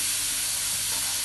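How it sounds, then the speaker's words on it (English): Mixed pepper frying in a pan for Gambian white benachin rice gives a dense, continuous close-up sizzle and hiss with no pauses and no talk. "I'm frying mixed pepper now"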